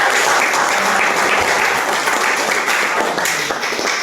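Audience applause at a talk, a dense sustained wash of clapping from a crowd, loud and even throughout with a slight fade near the end.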